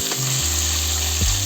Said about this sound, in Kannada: ಟೊಮೆಟೊ ಮತ್ತು ಆನಿಯನ್ ಸರಿಯಾಗಿ ರೋಸ್ಟ್ ಮಾಡೋಣ.